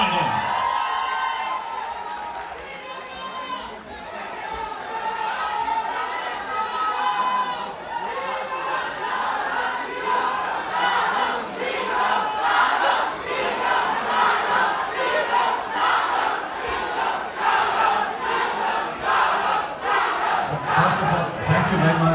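Large audience at a movie press conference clapping and cheering, a loud crowd roar with shouts and rhythmic clapping that builds and stays dense, a voice calling over it early on.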